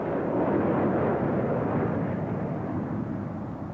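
A Saab jet trainer flown by the Austrian Karo Oss aerobatics group makes a loud, steady, broad jet roar at an air show, fading a little near the end.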